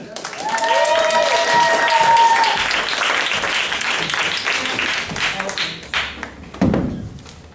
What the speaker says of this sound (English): Let's keep it going, come on, let's get clap, and now, more clapping